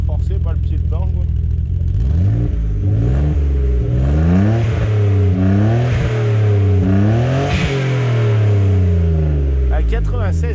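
A bi-turbo car fitted with a new exhaust silencer accelerates steadily through several gears, its engine note climbing and dropping in repeated sweeps. The engine is loud and close, heard from inside the car, with people talking over it.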